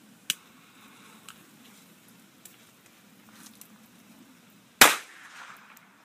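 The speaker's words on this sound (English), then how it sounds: "today I'm doing a demo of the Mite 1-inch Firecrackers by Red Rhino Fireworks." Red Rhino Mighty Mite 1-inch firecrackers go off outdoors: a sharp small pop early on, a few faint crackles, then one loud close bang with a brief hissing tail.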